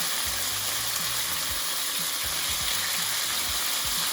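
Small chopped pieces of pork stir-frying in hot oil give a loud, continuous sizzle, with rhythmic low scraping and tossing strokes against the pan and no talk.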